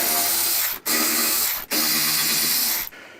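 A ratchet works loose bolts at the rear fender of a Softail motorcycle under the license plate area, giving three long, loud, continuous bursts of rapid clicking separated by brief pauses, with no talking.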